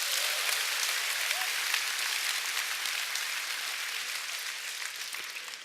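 Enthusiastic applause from a seminar audience, many hands clapping densely and evenly and slowly tapering in loudness toward the end, with no talking over it.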